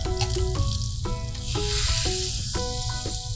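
Kassler pork meat fries in a pan with a steady crackling sizzle, close and moderately loud, while short tonal beeps or clinks sound intermittently over it; no speech.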